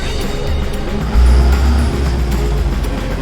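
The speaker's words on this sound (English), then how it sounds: "So this bus is gone" A bus pulls away near Periyar House at the Periyar Wildlife Sanctuary, its loud low engine rumble steady and close, swelling briefly midway before continuing over outdoor background noise.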